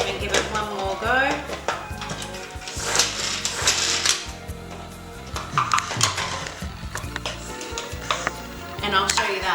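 A Turbo Chef food chopper finely dices salad ingredients, giving repeated short whirring pulses with rattling clatter from the chopped pieces inside.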